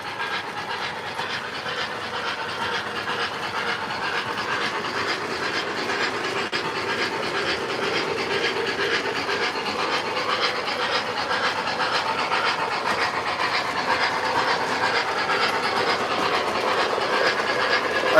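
K-Line 040 model train locomotive running on track, a steady close rolling clatter and rumble that builds slightly in loudness over a long stretch, with no talking.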